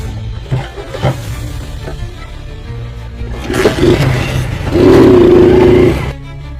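A motorcycle sputters with a few low knocks, then its engine swells into a loud, buzzing rev for a second or so before cutting off abruptly.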